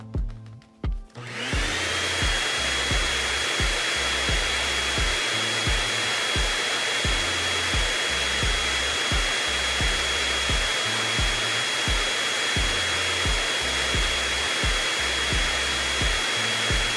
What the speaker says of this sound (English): Barbie, where's your vacuum cleaner?